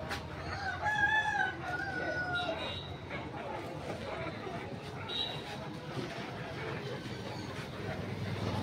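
Country chickens and roosters at a market, with a rooster crowing clearly near the start and scattered clucking afterwards, all beneath a constant crowd murmur and nearby talking.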